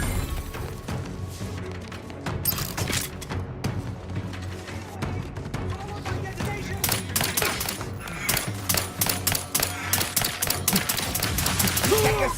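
Combat gunfire in the video game The Outer Worlds 2, rapid bursts of automatic fire and sharp individual shots with occasional heavy impacts, loud and close, with a voice speaking briefly amid the shooting.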